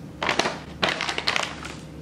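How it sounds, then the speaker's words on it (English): A knife cuts through Andes mint candies on a cutting surface, giving a few close, crunchy chopping bursts in quick succession with no talking. "So now I'll cut these Andy's candies."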